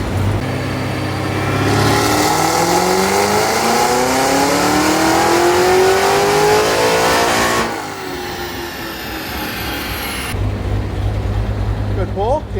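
A Hennessey-tuned Cadillac CT5-V Blackwing is run on a dyno, its engine climbing loudly through the revs in one long sustained pull, then easing off and settling back toward idle.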